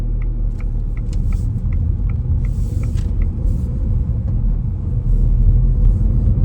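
Car engine idling with a steady low rumble at a stop line on a driving test route in Raheny, Clontarf, as it is put into first gear, with faint ticking in the background and engine noise rising slightly near the end.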